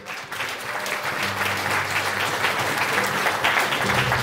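Guests at a quinceañera celebration give the girl's mother a warm round of applause, full and steady clapping that swells slightly in the opening second and then carries on evenly, with faint crowd murmur underneath.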